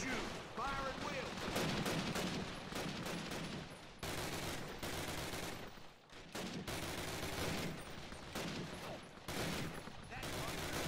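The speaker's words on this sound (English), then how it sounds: "No, I'd say that's medium fire at best. Doesn't sound super heavy." Continuous gunfire and volleys of shots in a World War II battle from Call of Duty: United Offensive, an American advance on Foy, loud and dense throughout with only brief pauses, mixed with battle noise.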